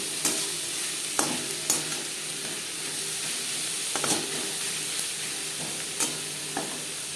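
Onion and tomato fry with turmeric and salt in a pan, giving a steady sizzle with a spoon scraping and stirring at irregular intervals.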